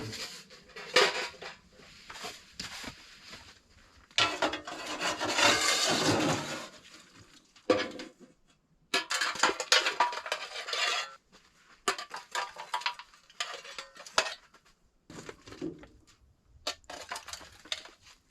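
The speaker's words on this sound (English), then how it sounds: "We're going to clean out the stove" A wood stove being cleaned out: irregular metallic scrapes, clanks and rustling bursts of ash and debris, close and fairly loud, separated by short quiet gaps.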